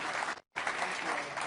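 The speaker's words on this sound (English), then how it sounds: "I don't know if you can hear the applause." Audience applause at the Reuters NEXT Europe business and political summit, a dense steady patter of clapping from a crowd that briefly cuts out, then resumes at full strength.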